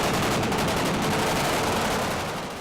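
Real guns firing blanks on a film set, a dense loud burst of rapid automatic gunfire that fills the whole moment without a break and starts to fade only at the very end.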